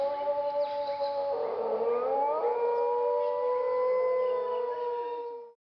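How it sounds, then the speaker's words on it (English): A dingo gives a long, sustained, wavering howl with rising and falling tonal pitch, joined by overlapping howls, loud and clear before cutting off abruptly. "I give you the sound of the dingo."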